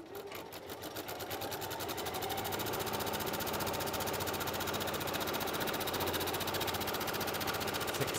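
A sewing machine runs fast and steady across an apron, a continuous close whirring hum with rapid needle strokes that holds unbroken throughout.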